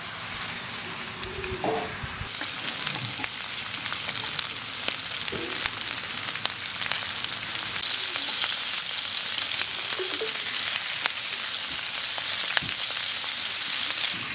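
Chili rings and onion sizzle steadily in a pan with marinated pork slices for homemade Korean-style grilled pork, a continuous loud frying hiss with occasional stirring clinks and no talking.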